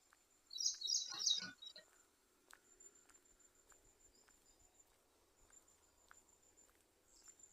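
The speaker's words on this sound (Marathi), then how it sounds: "पक्ष्यांचा किलबिलाट ऐकू येतोय" A short burst of bright, high bird chirping near the start, then quiet outdoor ambience with faint scattered sounds, in a rural village setting during the rainy season.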